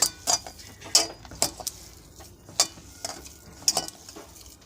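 Sago chop mixture being kneaded together with spices, making a run of short, moist squelches and clicks at an uneven rhythm, close up, with no voices.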